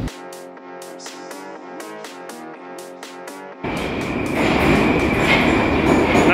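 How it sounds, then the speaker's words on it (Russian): A chiming multi-note station signal plays on the Moscow Metro Circle Line, then a metro train rushes in with a loud, rising rumble and rail noise that continues to the end. "Наш поезд прибывает."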